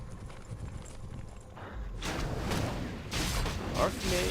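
Horse hooves clip-clop as the mounted Archmage hero rides into battle in Warcraft 3. The hoofbeats sit within a busy mix of game sounds that grows louder partway through.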